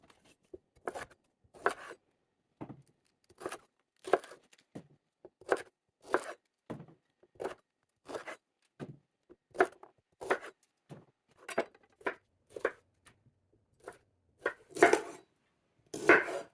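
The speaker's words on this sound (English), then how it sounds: "Got all of them chopped and they're nice and beautiful." Brussels sprouts chopped on a board with a knife, a long run of sharp, separate cuts in an uneven rhythm, close and clear against a quiet background.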